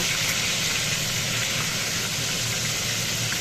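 A hilsa fish head coated in salt and turmeric frying in a pan, giving a steady, even sizzle with no breaks.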